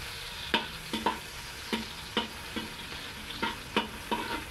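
Garlic and onion sauté in a pan for crab and bamboo-shoot coconut stew, a steady sizzle broken by a string of sharp spatula scrapes and stirs spaced about half a second apart, close and clear with no talking.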